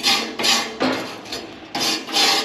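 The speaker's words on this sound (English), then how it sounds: "I just use like it's a soft metal bristle brush. Get all those gas holes." A soft metal bristle brush scrubs the burner holes of a ventless gas wall heater, giving close, raspy back-and-forth strokes in a quick rhythm of about five passes.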